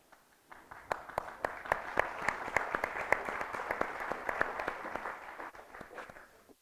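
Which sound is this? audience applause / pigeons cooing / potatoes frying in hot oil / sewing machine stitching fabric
audience applause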